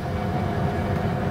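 A train in the model railway game Rolling Line rumbles along steadily, a dense, continuous low roar with faint rolling clatter, close and unbroken for the whole short moment.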